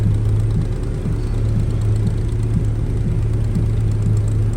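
Air conditioner compressor running in a Toyota FX 2000 car after an aircon restoration, a steady close low hum with a constant drone and faint rhythmic ticking, with no voices.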